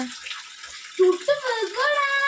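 Rainwater rushes steadily during heavy rain in Wayanad, a continuous hissing flow close by, with people talking over it.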